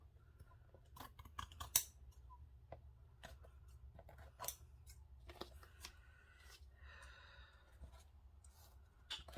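Close, quiet snips of scissors trimming the edge of a junk journal cover made from a Little Golden Book, a scattered series of short crisp cuts with paper rustling between them.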